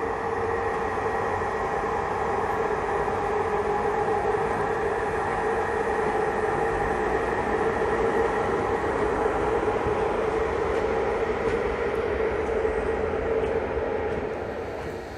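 A Romanian InterRegio train, IR 1742 from Satu Mare to București Nord, pulls out of Brașov station with a steady, loud rumble and hum of railcars rolling along the track throughout, without speech.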